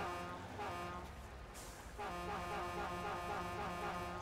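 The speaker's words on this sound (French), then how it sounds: "C'est le klaxon." Truck horn in the mud-driving game Spintires: MudRunner, sounding as a sustained toot that breaks off and then returns as a longer steady blast over a low engine rumble.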